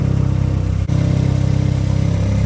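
A 1991 Mitsubishi 3000GT VR4 engine idles steadily and loudly close by, with a low, even rumble that holds for a couple of seconds and breaks in one brief dropout.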